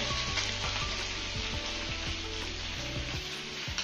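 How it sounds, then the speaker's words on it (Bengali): Potatoes frying in hot oil in a pan, a steady dense sizzle with occasional scraping knocks from stirring, close and continuous without any voices. "আলুটা আমি 2 মিনিট মতো ভেজে নিয়েছি"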